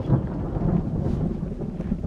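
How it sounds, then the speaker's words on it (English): Heavy rain pounds down at a campsite in the Colorado Rockies, a steady dense roar with low rumbling, loud and continuous with no talking. "It's raining. Pretty bad."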